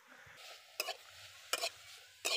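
Grated coconut filling scraped and stirred in a wok over a clay stove, with three sharp bursts of spatula scraping against the pan over a soft background hiss, no talking.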